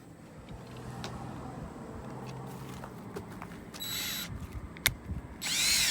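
A power drill driving screws into an RV awning bar, with brief whirring bursts over a steady outdoor background, ending in a louder, sustained high-pitched drill run.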